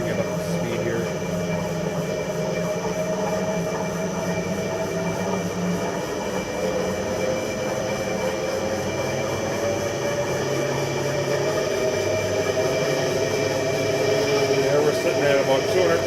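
A 1996 Nardini lathe runs in its lowest gear, giving a steady mechanical drone and whine that holds evenly and swells slightly toward the end as it comes up to speed; someone talks over it.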